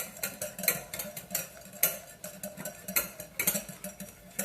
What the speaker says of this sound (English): You're going to just whisk this.